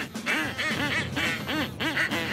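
Ducks quack repeatedly in a steady run of loud, close calls from a duck blind, with no voices over them.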